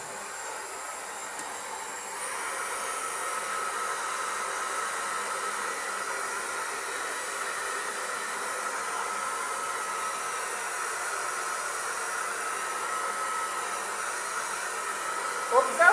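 A hair dryer blows steadily across a printing screen coated with photo emulsion, a constant airy whoosh that steps up in level after about two seconds and runs on alone at moderate volume.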